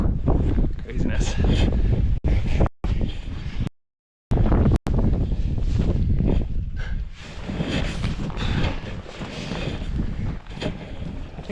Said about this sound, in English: Looks like some serious wind up there